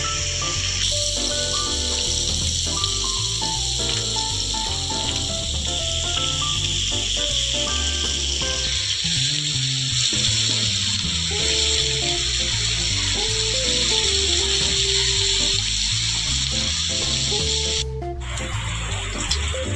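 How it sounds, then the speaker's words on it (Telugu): Fish pieces shallow-frying in hot oil in a pan or kadai for a fish curry, a continuous loud hiss and sizzle running throughout, with background music layered over it. "ముందుగా మనం ముక్కల్ని కాస్త చిన్నది ఫ్రైలా చేసుకుంటే చిన్నది ముక్కల్ని మనకి గట్టి పడుతుంది."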